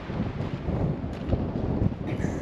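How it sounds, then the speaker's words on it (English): Strong wind buffets the microphone in open southwest desert terrain of cactus and boulders, a continuous low rumbling roar with gusty swells, close and loud with no talk. "I'm hoping that the wind doesn't drown me out completely."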